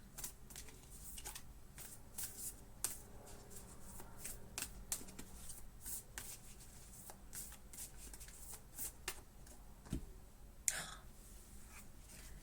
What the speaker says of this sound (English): Let's pull you a Moonology card from Yasmin Bolin.